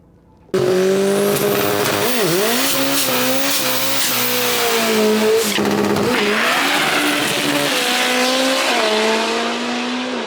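A Mazda RX7 drag car launches hard at a drag strip, its rotary engine screaming through rising gear pulls with brief shift dips as it drives down the track, loud and close throughout.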